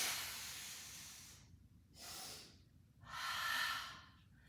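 Three deep, airy breaths during a Pilates mat class on an Arc Barrel, each long hissing inhale or exhale separated by brief silences, close and clear with no talking.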